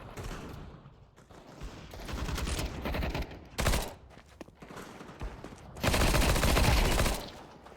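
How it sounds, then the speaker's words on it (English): Suppressing gunfire in the video game Deus Ex: bursts of rapid shots in uneven clusters, with a dense, loud volley near the end, over faint background game noise and no talk. "Laying down suppressing fire."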